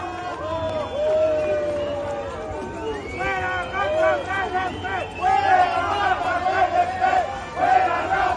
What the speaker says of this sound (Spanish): el abucheo que recibió el día de hoy Cuauhtémoc Blanco